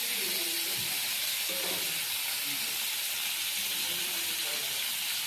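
Prawns fry in hot oil in a wok, giving a steady, dense sizzle and hiss throughout, close and continuous, with faint clatter underneath.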